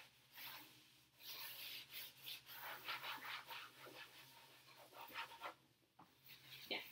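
A hand or cloth rubs lightly over the surface of a white still-life painting to test how wet it is, making soft, quiet scratchy strokes in irregular bursts with no talking.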